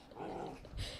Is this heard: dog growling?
yes